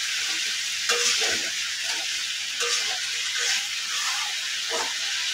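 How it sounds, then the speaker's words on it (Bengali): A spatula stirs cauliflower and potato curry in a wok with a little water, giving a steady close sizzle and hiss broken by a few soft scraping knocks of metal against the pan. "নাড়তে গেলে কড়াই আর খুন্তির যে একটা ঝনঝনানির আওয়াজ, আসলে এটা একটা মিষ্টি আওয়াজ।"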